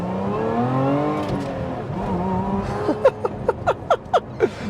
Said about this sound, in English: the sound of that supercharged V6 is so awesome